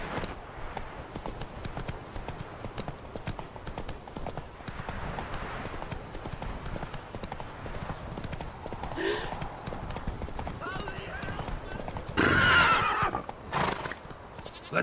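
Roach the horse gallops in Witcher 3 with fast, steady rhythmic hoofbeats throughout, loud and close, and a brief louder burst of game noise near the end.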